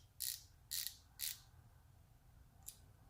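A Capri 4-in-1 ratcheting wrench clicks close by and quietly: three sharp, evenly spaced ratchet clicks, then a fainter fourth click after a pause, over a low background hum.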